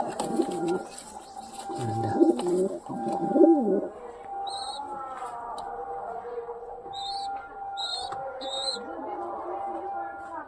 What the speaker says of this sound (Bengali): ডাকতেছে পায়রাটা